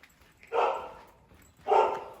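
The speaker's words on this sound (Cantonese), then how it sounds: "呢度隻狗啊！" A dog in a large old natural village barks twice, two loud, separate woofs a second apart, fairly close and with no one talking over them.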